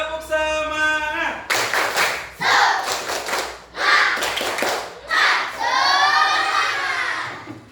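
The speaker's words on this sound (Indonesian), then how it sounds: "Tepuk semangat." A class of children in a classroom performs the rhythmic 'tepuk semangat' spirit clap: a voice calls out, then bursts of group clapping alternate with loud shouted chanting, ending in a long collective cheer.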